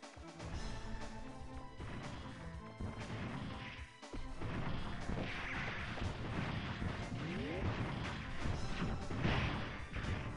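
Explosions tear apart a building in the video game MegaMan 64, loud, continuous blasts and crashing debris overlapping one another with a brief lull partway through before the destruction resumes.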